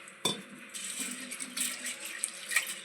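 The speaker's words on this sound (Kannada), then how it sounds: "ಕಡಲೆಬೇಳೆ ತೊಳ್ಕೊಳ್ಳೋಣ್ರಿ" Water splashes as split chickpeas (chana dal) are washed by hand in a bowl, a sharp splash at the start followed by continuous swishing and trickling close by, with no talk.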